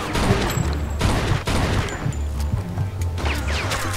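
Dense, rapid gunfire bursts from the video game Mafia 2, sharp cracks and booms piling into a near-continuous fusillade over low rumble for the full four seconds.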